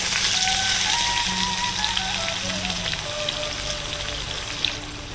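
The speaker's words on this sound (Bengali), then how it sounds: "পেঁয়াজ কুচিটা দিয়ে আমি এবারে ভালো করে এটা ভেজে নেব।" Chopped onions fry in a pan with a constant crackling, bubbling sizzle, close and fairly loud throughout, with no talk over it.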